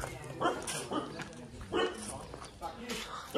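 Dog barking in a few sharp, short barks spaced through a brief moment, fairly close, with people's voices around it.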